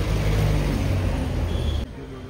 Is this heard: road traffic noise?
yes